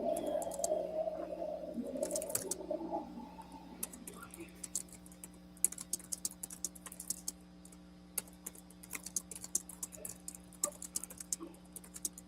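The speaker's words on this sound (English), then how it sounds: "Who's typing?" Fast, irregular clicking of computer keyboard keys, close and crisp, comes in bursts after a voice speaks in the opening seconds, with a steady low hum underneath.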